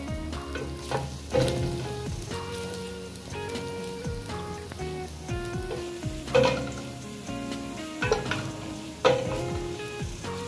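Garlic frying and being stirred in a pan while guisado-style Buldak cheese ramen is prepared. A steady close sizzle runs throughout, with the scrape and clatter of stirring rising in bursts.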